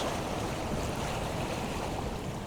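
Water washing around rocks at a shoreline makes a dense, continuous surging rush, close and fairly loud, with no voices.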